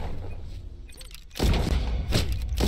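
A grenade goes off in the browser shooter Venge.io: a quiet stretch, then a sudden loud blast with crackling debris, followed by a second burst shortly after.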